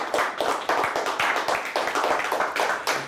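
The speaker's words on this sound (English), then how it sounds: "Let's give them a nice round of applause." An audience at a high school quiz show between Northern Michigan Christian and Portland St. Patrick gives steady applause, dense overlapping hand claps filling the room at an even level with no talking.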